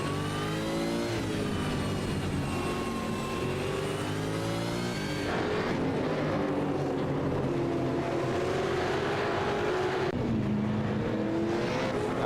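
V8 Supercars in a sim racing game at Long Beach rev and accelerate on track behind a safety car, their engines whining up and down through shifting gears, loud and continuous.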